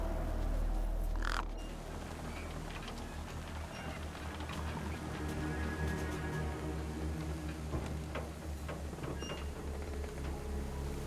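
A crow caws in the video game Beyond a Steel Sky, a few harsh calls set over a steady hum of ambient game music and background tones, with no talking.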